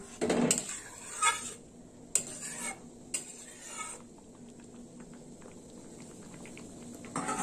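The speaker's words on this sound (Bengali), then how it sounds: "দিয়ে দিলাম লবণ, একটু নেড়ে চেড়ে দিলাম।" Moong dal with taro is stirred in a pot after salt goes in. A spoon scrapes and knocks against the metal in a few separate bursts, then quieter shuffling follows.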